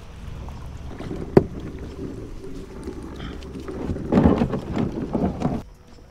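A boat rides a swell in toward the shore on the San Bernard River, with wind buffeting the microphone and water churning and sloshing, a sharp knock early on and a louder surge of splashing near the end.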